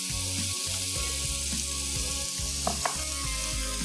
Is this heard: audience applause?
no